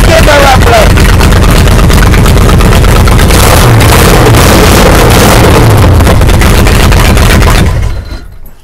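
A GMC Vandura van's V8 runs loud and rough close by, a dense steady roar that holds for several seconds, then cuts off abruptly near the end.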